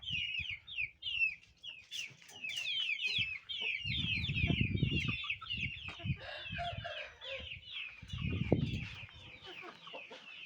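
A hen that has started laying early clucks in a steady run of calls, with low thumps and scuffling close by and no voices.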